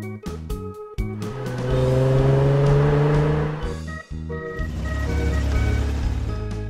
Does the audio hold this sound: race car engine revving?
yes